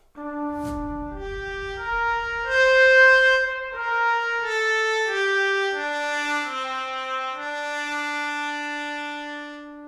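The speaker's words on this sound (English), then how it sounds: "If we go down here, you also get a solo trumpet. And it goes like this." A solo trumpet from the Kontakt 7 Orchestra sample library plays a legato melody over a low struck chord, bright and sustained, moving between held notes in a spacious, reverberant room.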